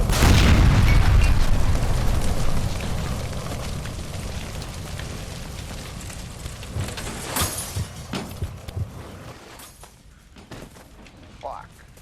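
A gas line explosion in the video game L.A. Noire: a loud, low boom that dies away over a few seconds into rumbling debris and crackle, while voices shout over it.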